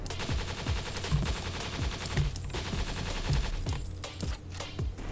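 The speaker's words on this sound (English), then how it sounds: "that is me creating a phasing loop, a phasing loop of the firing sound" A sci-fi pulse rifle from the video game CHITIN fires in a looping, phasing pattern: rapid repeated synthetic shots with sweeping tonal swirls, loud and continuous, with no talking.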